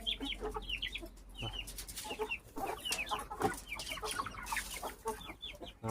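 Hens cluck repeatedly at close range in a farmyard coop, with short overlapping calls and scattered bursts from several birds over a quiet background.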